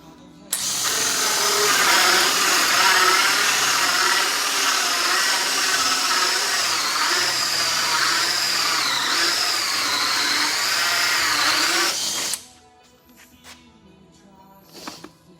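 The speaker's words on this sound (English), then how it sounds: "let's go drill the wrong size hole" A power drill bores a hole in wood for a horizontal beehive, running steadily and loudly for about twelve seconds with a whining pitch that wavers slightly, then cuts off, leaving quiet room noise and faint clicks.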